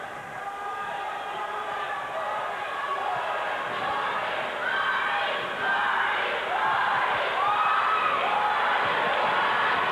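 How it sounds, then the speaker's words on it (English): A large crowd at a 1998 WWF house show wrestling match in Salem, Massachusetts chants continuously for Hardy, a dense, steady roar of many voices that swells slightly toward the end. "The crowd is, they just haven't stopped chanting Hardy."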